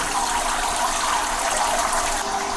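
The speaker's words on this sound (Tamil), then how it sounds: "நம்ம கேனிஸ்ட் ஃபில்டர் வழியால் தண்ணி உள்ளே பாய்ச்சி அடிக்கப்பட்டுருக்கு" Water gushes steadily from a canister filter outlet into a large monster fish tank, a continuous close splashing and rushing hiss with no speech.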